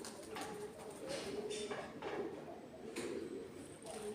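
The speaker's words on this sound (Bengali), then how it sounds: "দেখো পায়রাগুলোকে কি সুন্দর বসে আছে" Pigeons perched in a hilly setting give soft, low cooing calls that repeat in a loose rhythm, close by but faint against a constant background hiss.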